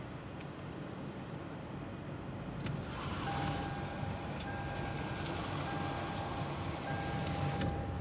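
A car drives along with a small camera mounted on its hood, a steady engine and road rumble with wind rush, a faint high whine coming in midway, no talking.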